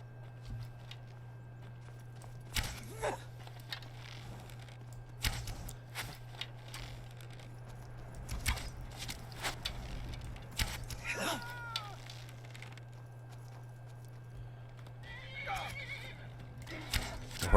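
A horse in the game Skyrim whinnies loudly several times while hooves clip-clop at a walk in the background, with occasional faint voices and a steady low hum underneath.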